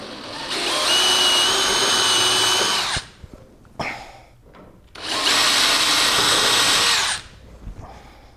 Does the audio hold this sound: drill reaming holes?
yes